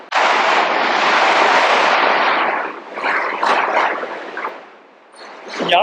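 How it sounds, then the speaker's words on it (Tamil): Firecrackers burst in the streets during a celebration, a dense crackling barrage that stays loud and continuous for several seconds, then thins into scattered pops before a final sharp burst. "தமிழ் ஞானபீடம் பெற்றதை தெருக்கள் வெடிவெடித்து கொண்டாடுகின்றன"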